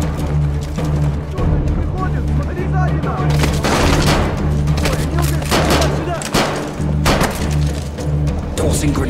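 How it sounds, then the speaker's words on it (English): A frag grenade thrown and exploding in Call of Duty Modern Warfare 3, with heavy booms and gunfire layered over a steady low rumble of combat noise throughout. "Tossing grenade"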